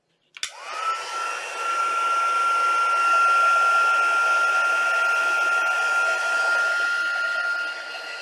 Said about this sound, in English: So I have a heat tool. This is going to activate the embossing powder.